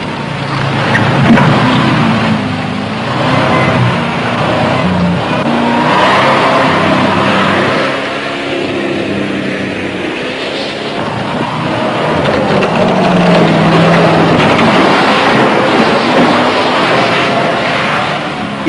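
A six-wheel-drive RAF fire truck's engine rumbles and revs steadily for a long stretch, loud and close, with rising and falling drive noise.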